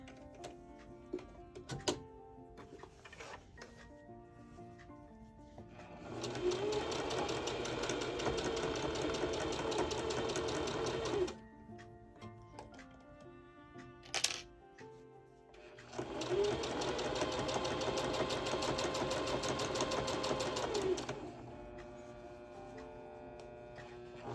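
A sewing machine stitches fabric in two sustained runs of rapid mechanical whirring, each about five seconds long, separated by quiet pauses with small clicks and handling noises.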